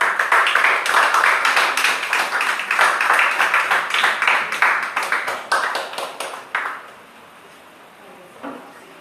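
A church congregation claps in applause, loud and close, with many hands forming a dense rhythmic patter that grows uneven and thins into scattered claps before fading to near quiet, a lone clap following.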